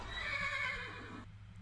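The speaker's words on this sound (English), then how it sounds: "No, it's a horse." A horse in the video game Minecraft gives a single shrill whinny lasting just over a second, clear and close, ending abruptly over a low background hum.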